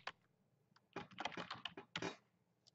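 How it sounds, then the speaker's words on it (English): Quick bursts of keys clattering on a computer keyboard as a player's uniform number and name are entered into a basketball roster program, close and clear with short pauses between bursts. "type in the player uniform number"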